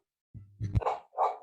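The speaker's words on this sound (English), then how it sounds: "I am stopping for 2 minutes because this dog is barking." A dog barks close by in a few sharp, loud bursts, cutting into the quiet of an indoor talk on scripture.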